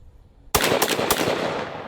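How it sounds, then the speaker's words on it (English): A single heavy gunshot from a Nemo Omen semi-automatic .458 Win Mag rifle cracks out loud after a short quiet, followed by a few rapid echoing reports and a lingering rumble. "Semi-automatic 458 Win Mag."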